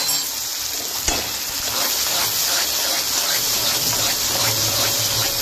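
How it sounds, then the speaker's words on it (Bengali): Spice paste with tomato fries in hot oil in a pan, a continuous loud sizzle and crackle with occasional stirring scrapes, no talk. "আমি একদম মশলার সাথে সুন্দর করে একদম ভেজে নেবো"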